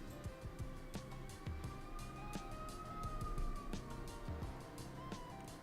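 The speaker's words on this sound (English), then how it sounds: "Ambulance or no, that's a fire truck." A fire truck siren wails faintly from outside, its rising and falling tone drifting steadily past.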